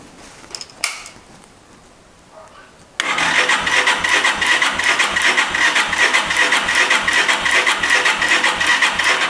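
A car engine, wired up for an ignition coil test, cranks briefly amid faint rustling, then catches at about three seconds and settles into a loud, steady run with a regular pulsing beat close by.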